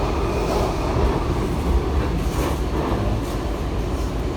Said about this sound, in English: you could possibly hear the same rail sound that you hear right now